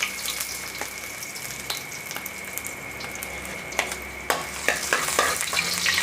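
Vegetables for fresh lumpia sauté in hot oil in a home kitchen, a steady close sizzle with stirring scrapes and a few sharper clatters of utensils, no talking.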